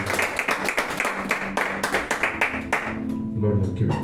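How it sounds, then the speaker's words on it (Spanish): Congregation in a church clapping in a burst of applause, sharp claps in an uneven rhythm for about three seconds, fading as voices and speech take over at the end. "Vamos a darle un fuerte aplauso"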